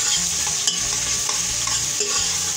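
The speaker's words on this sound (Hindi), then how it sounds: "और ये मैं लहसुन ऐड कर रही हूँ।" Garlic sizzles steadily in a hot pressure cooker for beef nihari, with a continuous frying hiss and occasional light clinks from stirring, close up.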